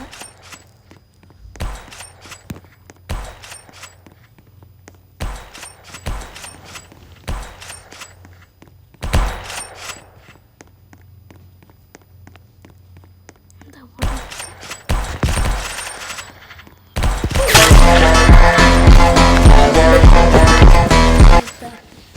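Rapid gunfire bursts from a Roblox arena shooter game, sharp repeated shots with footstep-like clicks between them, ending in a dense loud barrage with music or effects over the last few seconds.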